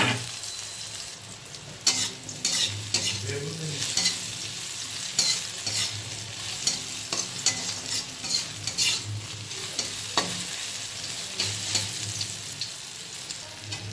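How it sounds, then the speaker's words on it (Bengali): Brinjal sizzles and fries in hot oil in a pan, a steady crackling hiss with intermittent clinks and stirring scrapes, close and continuous with no one speaking. "বেগুনটাকে একটু ভালো করে আগে ভেজে নেব"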